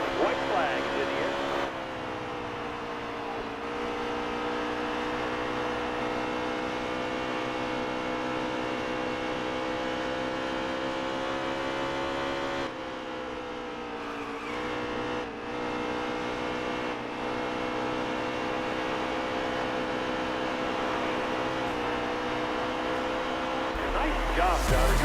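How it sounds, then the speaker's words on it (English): In-car sound from the number 9 Napa Chevrolet race car on a hot lap at Dover's Monster Mile: a loud, sustained engine drone with shifting pitch as it accelerates and lifts. Voices talk over it. "I took to the Monster Mile for a hot lap in the number 9 Napa Chevrolet"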